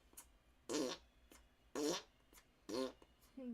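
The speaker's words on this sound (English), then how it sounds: "You squeeze them, push the hole at the top into your hand. It makes a fart sound." A squeezable fart bag toy lets out three loud, wet, buzzing fart noises, evenly spaced about a second apart, with a short fourth starting at the end, close to the microphone.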